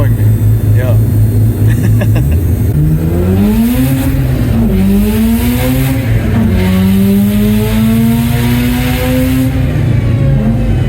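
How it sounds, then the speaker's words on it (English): A four-rotor rotary engine in a car is revved hard on test, its pitch climbing and falling in repeated sweeps that build into a high whine. The engine runs loud and close, with voices talking beneath it. "Now we're testing Albie's car."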